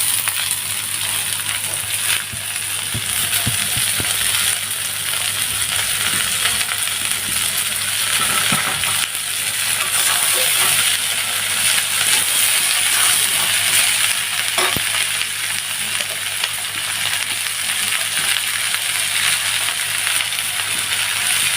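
Potatoes and chopped botboti (tripe) fry loudly in a pan, giving a continuous dense sizzle with irregular scraping and clinking as they are stirred throughout.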